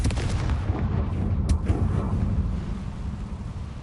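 A Confringo blasting spell erupts in a Harry Potter video game, giving a loud, sustained rumbling boom with crackling bursts that rolls on for several seconds before easing slightly.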